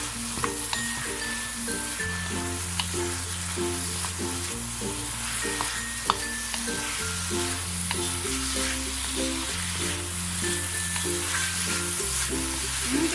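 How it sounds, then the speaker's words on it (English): Chicken and prawn spring roll filling with a sprinkle of turmeric sizzles steadily in a pan as it is stirred, the close, even frying hiss running under looping background music with a plodding bass line. "Give it a stir."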